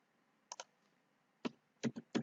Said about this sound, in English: now you have to go to your command prompt of the virtual machine and then type the following command